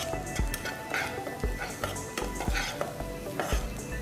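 Spices, including coriander powder, garam masala and cumin, fry in oil as a spoon stirs them, giving a steady sizzle with rhythmic scraping knocks against the pan, close and fairly loud.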